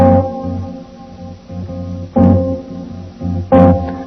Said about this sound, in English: you'll have a major 7 flat 5, which sounds like this.